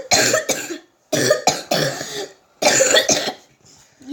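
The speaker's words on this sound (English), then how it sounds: "You both have that horrible cough." A harsh, loud cough comes in three close-up bursts, each a cluster of rough hacks separated by short pauses, ending in a faint trailing breath.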